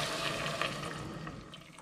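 Neutral cooking cream pours into a pot for creamy macaroni with spinach and chicken, a soft, quiet liquid glug and splash lasting under two seconds, with no talking.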